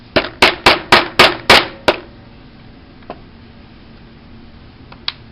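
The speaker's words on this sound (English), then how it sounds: "get some of the nails and a hammer, and you will hammer them in place" A hammer driving nails into a wooden board to hold stained glass pieces, with about seven sharp, evenly spaced strikes in quick succession, followed by a few fainter taps.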